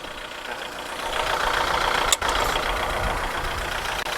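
A used Kubota L4708 four-wheel-drive tractor with a four-cylinder engine idles steadily and close up, one continuous broadband drone broken by a brief dip midway.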